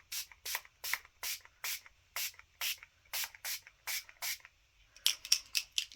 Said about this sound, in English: I'm going to spray over here